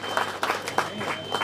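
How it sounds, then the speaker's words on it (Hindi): An audience at a launch event gives a round of applause for the organizing team, with scattered, uneven claps and a few louder individual hits over a background hum. "एक बार ज़ोरदार तालियां हो जाए पूरी टीम के लिए।"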